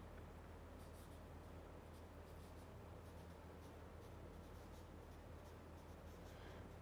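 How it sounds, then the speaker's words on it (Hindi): A teacher writes on a board during a Class 9 physics lecture, a faint continuous scratching and tapping under a low steady room hum, with no voices. "अब हम लिखते हैं"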